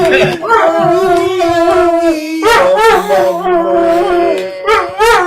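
A dog howls in long, sustained, wavering tones near and loud, rising and falling as if singing along in harmony, with a fresh howl starting partway through and faint human voices underneath.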